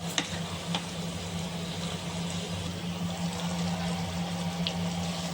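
Drumstick pickle with chili powder cooks gently in oil, a low continuous sizzle with a steady hum beneath it and a couple of faint clicks.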